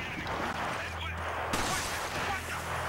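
Pistol fire in the video game Resident Evil 5, with one sharp, loud shot cracking out midway over a busy background of game noise.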